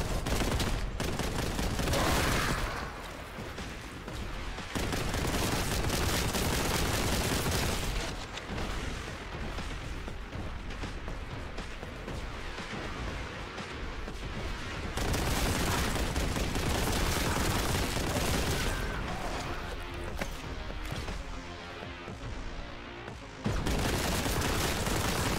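Sustained heavy gunfire in Warhammer 40,000: Boltgun, dense rapid shots and booming blasts running nearly continuously, loud and close, with brief dips in intensity.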